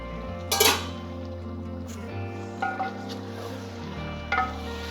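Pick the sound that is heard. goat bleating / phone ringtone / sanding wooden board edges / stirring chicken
stirring chicken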